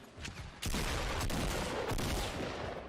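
Rapid gunfire in a Fortnite tournament match, a sustained dense burst of shots starting abruptly and running without pause at close range.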